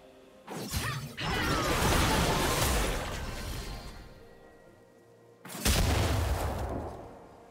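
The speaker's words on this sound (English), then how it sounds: "Blue team's turret has been destroyed." A turret being destroyed in League of Legends, a loud crashing, shattering burst with a whooshing mechanical collapse that fades out, followed by a second heavy crash a few seconds later.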